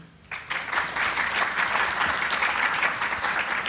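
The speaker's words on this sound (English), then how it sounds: "Let's give a little applause for them." Audience applause welcoming panelists at a design and technology event, bursting in abruptly after a brief quiet moment and then holding as a dense, even clatter of many hands from a seated crowd.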